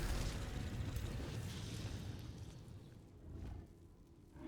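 A heavy explosion booms in the fantasy strategy game Age of Wonders 4, a loud rumbling blast that slowly fades into a softer lingering roar.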